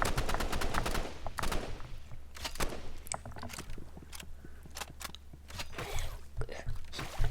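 Rapid assault rifle fire in the video game Rivals, a fast string of sharp, close gunshots in repeated bursts with a steady low hum underneath and no talking.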